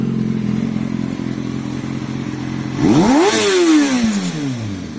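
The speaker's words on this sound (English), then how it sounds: "I'll go ahead and give you one good rev here" A 2005 Kawasaki ZX6R 636 motorcycle idles with a steady burble, then gets one sharp rev that climbs quickly to a loud, raspy peak and falls back down.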